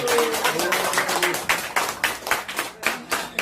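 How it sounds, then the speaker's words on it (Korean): A live audience at an in-person promotional event claps in a dense, scattered burst of handclaps that holds steady for a few seconds, fairly close and loud. "자, 박수 한번 크게 한번 주세요."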